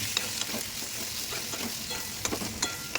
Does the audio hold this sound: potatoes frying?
yes